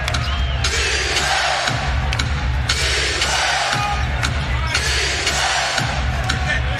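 An NBA arena crowd at a Houston Rockets vs Minnesota Timberwolves game roars and cheers continuously, loud and dense, with swelling bursts of noise as a commentator talks over it.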